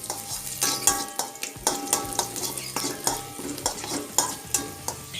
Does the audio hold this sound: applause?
no